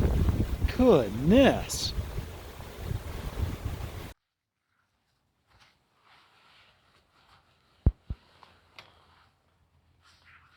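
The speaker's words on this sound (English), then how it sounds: "Now all I'm doing is fighting the wind." Strong wind of around 25 miles an hour gusts at a hammock campsite, roaring hard against the microphone for a few seconds before cutting to near silence with a couple of faint knocks; a person speaks briefly.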